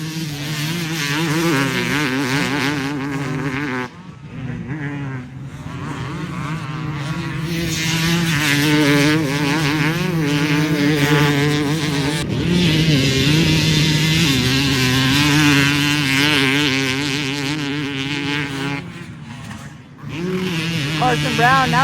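Two-stroke motocross bikes racing at full throttle at the Glen Helen 2 Stroke World Championship, a loud buzzing wail rising and falling through gear changes, with brief drops between passes and an announcer talking over it.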